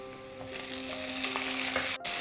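Onions fry in a kadai while being stirred continuously, producing a close, even sizzle that swells slightly and cuts out briefly near the end.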